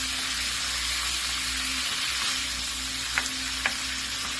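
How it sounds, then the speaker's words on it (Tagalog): Beef sautés with a little salt in a hot pan, giving a continuous loud hiss and sizzle with a couple of brief clinks from stirring near the end. "Ganyan lang po, gigisa lang natin."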